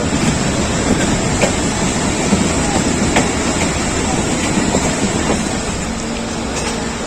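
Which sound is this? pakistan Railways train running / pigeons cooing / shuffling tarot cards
pakistan Railways train running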